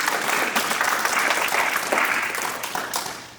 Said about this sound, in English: Let's give her another round